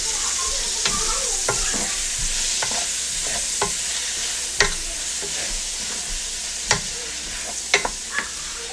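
Food stirred in a sizzling pan while cooking chicken, a steady loud frying hiss broken by sharp spoon scrapes and clicks at irregular intervals, close up with no voices.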